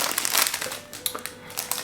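A plastic chip bag made to look like foil crinkles and rustles loudly up close, with continuous crackling and a few sharper crunches.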